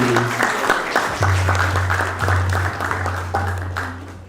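Audience applause at a ceremony honoring guests at a Vedic cultural center, a steady wash of clapping filling the room with a low hum and a voice briefly over it.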